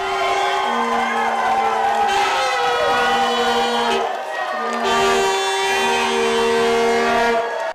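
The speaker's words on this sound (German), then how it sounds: "Der Jubel hält keine 3 Minuten an" A crowd at a World Cup public-viewing party in Plattling, Germany, erupts in loud, sustained cheering and whoops after Götze's goal against Ghana, with steady horn blasts sounding repeatedly over the roar.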